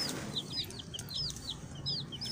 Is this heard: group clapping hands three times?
no